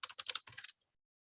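Rapid typing on a computer keyboard while entering a display name, a quick burst of close, crisp keystrokes lasting under a second, then silence.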